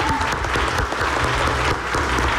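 A studio audience at a televised interview show applauds the Villarreal family with sustained, dense clapping from many hands, loud and even throughout.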